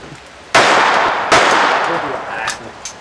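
Two loud, close gunshots at an outdoor shooting range, sharp blasts about a second apart, each followed by a long echoing decay, with a couple of faint metallic pings from struck targets afterward.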